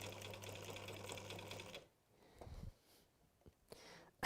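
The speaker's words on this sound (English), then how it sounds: "I'm a little bit quiet whilst I'm sewing." A domestic sewing machine chugs through a stitching run, a steady moderately close mechanical whirr for under two seconds before stopping, followed by faint handling clicks and rustles.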